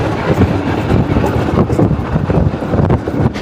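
The Kanchanjunga Express pulling out of Badarpur station in Assam: a loud, close, continuous rumble of rolling rail cars, mixed with wind buffeting the microphone throughout, with no voices.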